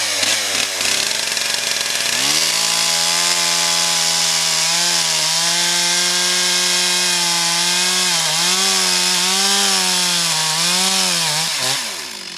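Chainsaw revving loud and steady while plunge-cutting into wood, its pitch sagging and rising as the bar bites in, close up and alone for about ten seconds before dropping off.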